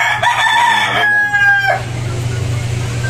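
A rooster gives one loud, close crow lasting under two seconds, its drawn-out call ending sharply. A low steady hum from the surroundings continues underneath and carries on afterward.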